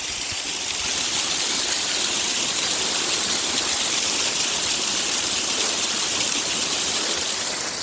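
Mountain stream tumbling down a small waterfall on a Cornish coastal path near St Austell, a steady broadband rush of water that stays loud and constant throughout, with no voices.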